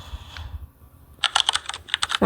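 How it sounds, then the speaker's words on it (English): Keyboard typing sound effect, a fast burst of crisp, close key clicks in an irregular rhythm after a quieter, murky start, ending abruptly, with no voice. "And I'm going to cut it here where the typing effect stops."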